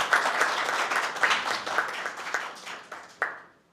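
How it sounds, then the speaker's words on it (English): Audience applauding both teams at a public sector debate competition, a dense burst of many hands clapping that thins out and fades, with a few louder claps near the end. "I want to begin by giving both teams a round of applause on a job well done."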